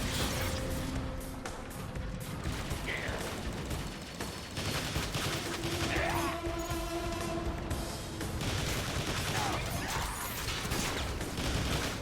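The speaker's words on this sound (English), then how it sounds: "Vector missiles deployed!" Vector missile barrage from a Transformers: War for Cybertron video game, a busy run of rapid launches and bursts over a mechanical whine, loud and continuous with sweeping tones in the middle.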